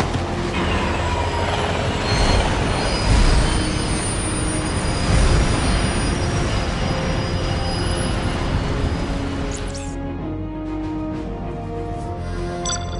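A train in a Fire Department 2 mission intro, a loud rumbling roll with screeching metallic wheel squeals that builds and then fades after about ten seconds, leaving a quieter hum.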